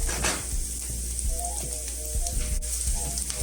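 Garlic frying in a hot pan for a stuffed eggplant dish, a steady close sizzle with light stirring scrapes and a few short tonal clinks over the hiss.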